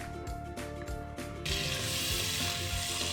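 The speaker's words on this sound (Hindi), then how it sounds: "अच्छी तरह भून लेना है कि इसका जो घी है वो अलग हो जाए।" Meat frying in ghee for a Savour-style pulao, a few rhythmic scraping strokes of a ladle followed by a loud, steady, hissing sizzle that fills the pan.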